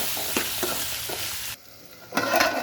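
Potato pieces fry in a pan under a steady sizzle, with a few scraping stir strokes before the frying briefly drops away and then surges back loud and close.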